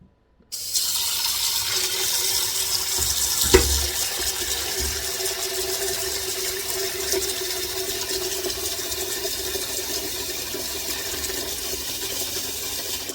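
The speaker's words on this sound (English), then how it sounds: "And I'm going to fill this with some water." Steady rush of running water filling a cooking pot, continuous and close, with a brief knock partway through and no talking.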